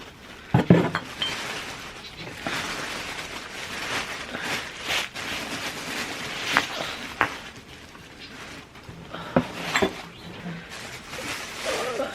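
Glass Christmas decorations clink and tap together as they are unwrapped from paper, giving scattered light clinks and paper rustles close by, with a few sharper knocks along the way.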